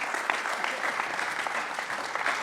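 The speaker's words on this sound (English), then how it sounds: "Give her a big round of applause." An audience gives a warm round of applause for a young woman climbing the stairs to the stage, a dense, even clapping that holds at moderate loudness for the whole moment.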